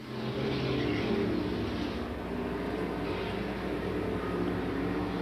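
Street stock race cars circle an oval track, a dense, steady roar of several engines running side by side at a distance, continuous and fairly faint throughout.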